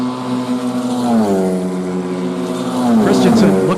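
F4 single-seat race cars at Road America, engines droning loud and close with a rising then falling pitch as they pass under a bridge toward a fast kink, under steady commentary.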